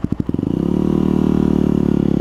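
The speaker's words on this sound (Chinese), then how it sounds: "然后每次骑的时候都很特别的声音， 就原来是杜卡迪的特有的干式离合器。" Ducati 748 motorcycle with its dry clutch, heard up close as a few quick throttle blips give way to a steady, loud rumbling idle with a rattly mechanical edge.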